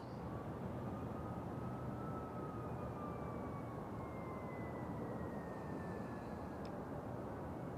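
A British Airways airliner moving on the ground at Nashville International Airport, a steady engine roar with a slowly gliding whine, continuous and fairly distant, with no talk.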